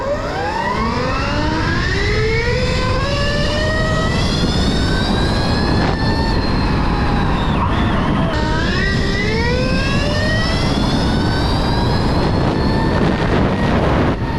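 A Stark Varg 80 hp electric supermoto runs at speed, its motor whine rising and falling in pitch steadily under loud, continuous wind roar, with a short shift in tone midway.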